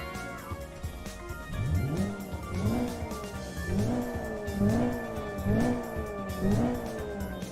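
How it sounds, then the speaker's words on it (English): A Mitsubishi Lancer EVO engine in the Assetto Corsa racing game, revving up repeatedly through gears in a regular rise-and-drop pattern with a moderately loud, even tone and faint tire noise. "It's not a loud car at the best times"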